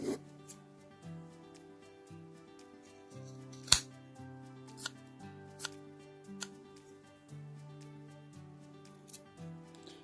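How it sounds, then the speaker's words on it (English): Sharp scissors cutting dress fabric close to the hem edge, soft crisp snips repeating unevenly over about ten seconds, with a steady low hum underneath and no talking. "we will use the scissors, use nice and sharp scissors, and we need to start cutting very near"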